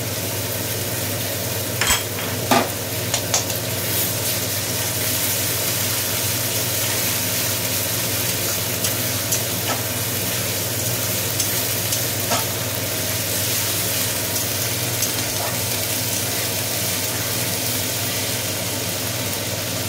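Garlic and ginger paste sizzling in a hot pan for a curry of jackfruit with fried katla fish head, a steady hissing fry with a low rumble beneath and a few sharp clinks from stirring.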